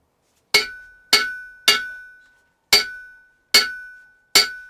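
A homemade steel anvil is struck six times with a hammer, each blow a sharp bright clang with a lingering metallic ring that decays before the next, spaced unevenly and loud in an otherwise quiet space.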